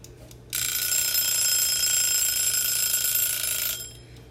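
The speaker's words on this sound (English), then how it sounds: "They know that when that timer rings" A classroom timer alarm rings as a loud, steady electronic buzz lasting about three seconds, starting abruptly and cutting off cleanly over a quiet room hum.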